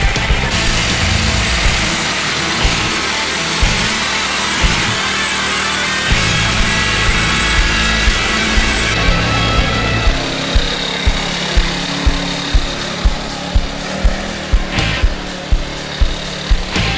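A lawn mower engine fitted to a homemade go-kart roars loudly and steadily on a test run, its harsh, noisy drone gaining a rhythmic pulsing in the second half, with no talking.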